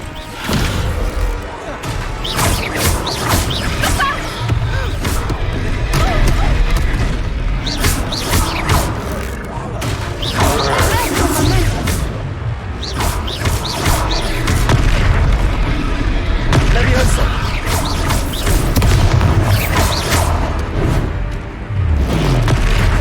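Spell blasts boom and crash in battle in the Hogwarts Legacy video game, a dense, loud run of heavy impacts and thuds with game music and effects layered over the whole stretch.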